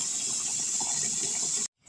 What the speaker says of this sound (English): now fill up the hot pan with cold water